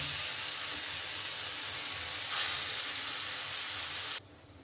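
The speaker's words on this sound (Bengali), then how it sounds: "যেটুকু ব্যাটার আমার বাকি রয়েছে সেটুকু এই তেলের মধ্যে দিয়েও এবার ভেজে নেব" Vada batter fries in hot oil with a loud, even, hissing sizzle that swells briefly midway, then cuts to quiet near the end.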